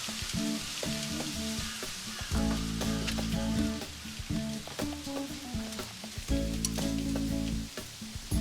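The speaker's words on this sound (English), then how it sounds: "char some tortillas on the grill" Tortillas char and sizzle on a grill for a taco lunch, a steady crackling fry with bursts and pops running close and fairly loud throughout, no talking.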